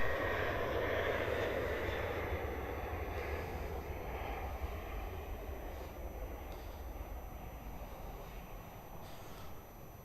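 A jet airliner departing Melbourne Airport for Denpasar, its engine roar steady and broad, slowly fading as it climbs away, heard alone without talk.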